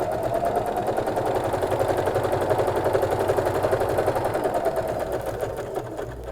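A sewing machine stitches a hem, beginning with a short reverse stitch, its needle chattering in a fast, even rhythm close by, steady throughout and slowing slightly near the end.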